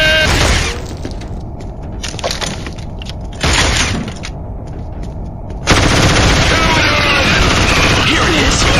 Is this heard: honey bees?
no